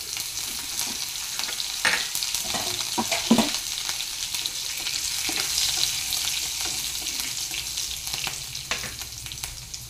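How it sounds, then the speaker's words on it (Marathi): Green chillies with mustard seeds and cumin, then cabbage, capsicum and peas, sizzle and crackle steadily in hot oil, with occasional stirring scrapes over a continuous frying hiss. "हे छान असं परतून घ्यायचं आहे आपल्याला"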